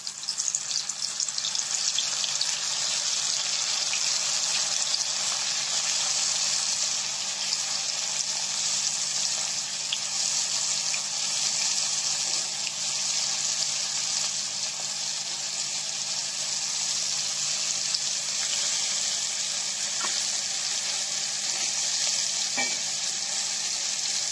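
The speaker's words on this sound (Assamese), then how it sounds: "এতিয়া পনীৰখিনি অকমান ফ্ৰাই কৰি লম।" Paneer fries in a pan with a continuous, even sizzle that stays fairly loud throughout, marked by occasional faint clicks and no talk.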